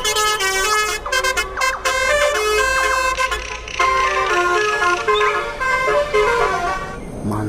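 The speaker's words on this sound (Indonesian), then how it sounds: "Wah, bus telolet Basuri." A toy bus plays its telolet horn, a loud, bright melodic tooting tune that repeats in quick varied phrases for several seconds, close and alone.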